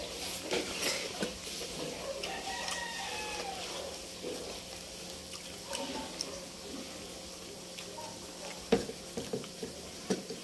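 Milkfish (bangus) fries in a pan with a faint, steady sizzle, broken by a few light clinks and stirring sounds near the end.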